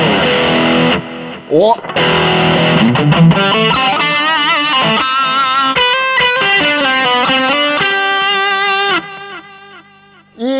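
Distorted electric guitar run through a BOSS GT-1 multi-effects unit with delay engaged, sustained chords and melodic notes ringing with echo repeats for about nine seconds, a brief spoken exclamation near the start, then fading to near silence.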